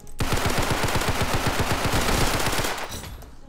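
Rapid automatic gunfire in Roblox Criminality, a tight burst of evenly spaced shots lasting nearly three seconds, loud and close, then cutting off into a brief fading tail.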